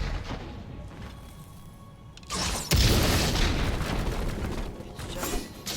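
A bomb goes off in God of War Ragnarok, a sudden heavy boom that jumps out of a low rumbling background and then lingers as a loud, broad roar with crackling debris for several seconds.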